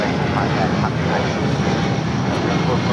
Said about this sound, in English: This is Delta Airlines 631 taking off to Mexico City on the 757-200